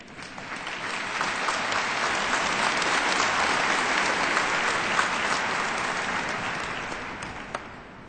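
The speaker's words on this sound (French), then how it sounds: "Je crois qu'il faut qu'on t'applaudisse." Applause from a congregation at a Catholic mass for the Antillean and Guianese community, broad and sustained clapping from a large crowd in a reverberant space, swelling gently and continuing for about eight seconds.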